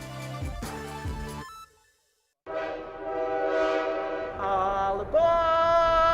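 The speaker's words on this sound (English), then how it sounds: "Relax to the rhythm of the train on the tracks." Leadville, Colorado and Southern Railroad train sounding its horn in long sustained blasts, preceded by short harmonic toots, with a brief silent gap before the steady loud horn resumes and builds.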